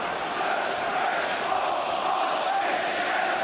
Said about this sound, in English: The crowd counting out the faces to accompany Mark Halsey's theatrical march.